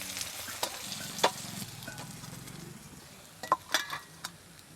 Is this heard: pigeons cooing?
no